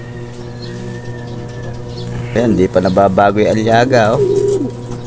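Someone talks loudly nearby while racing pigeons coo softly in the background, their murmuring mostly blended under the voice.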